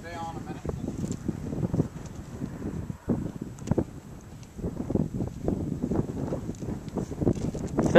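Cold wind gusting across a fence line, a low rumbling buffet battering the microphone almost continuously, close and moderately loud.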